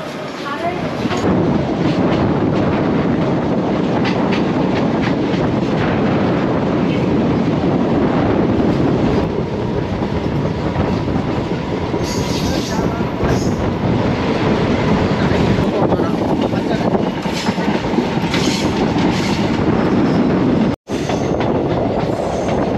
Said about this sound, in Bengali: হাফলং থেকে এখন ট্রেন ছাড়লো, ট্রেন শুরু হইলো আবার লামডিং এর উদ্দেশ্যে